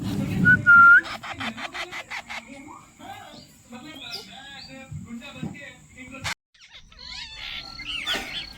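Parrot chicks call with high, thin chirps and squeaky cheeps in rapid scattered bursts, close by and fairly faint, and a person whistles and talks over them.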